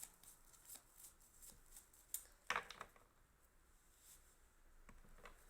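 Tarot cards are shuffled close by in a quiet room, a sequence of soft papery riffles and sharp flicks with two louder snaps in the middle.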